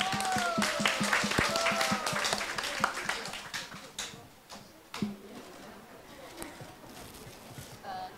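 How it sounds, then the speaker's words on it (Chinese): Fans applaud at a GNZ48 member's birthday party, a scattered burst of clapping that is strongest at first and thins into sparse, irregular claps, with a voice speaking over it near the start. "大家掌声欢迎。"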